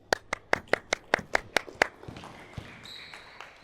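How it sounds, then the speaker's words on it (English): Youth basketball players on a court give a teammate a short round of about nine sharp, evenly spaced claps up close, then the clapping stops and gym noise with a faint voice follows. "Give him a clap."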